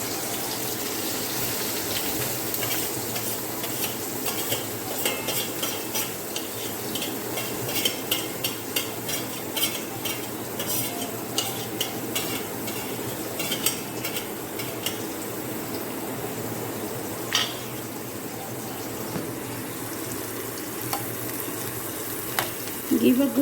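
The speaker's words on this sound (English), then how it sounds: "Then just add the onion into that hot oil and that garlic paste." Onion and garlic paste fry in hot oil for a dhaba-style mushroom masala. A continuous sizzle and crackle runs throughout, with scattered stirring scrapes and pops that grow a little louder near the end.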